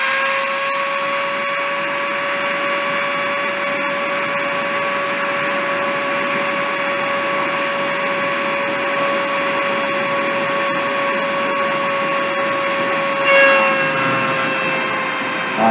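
A motor whines steadily through a deposition process, a loud continuous tonal hum with high harmonics holding constant throughout, with a brief shift near the end and no voices.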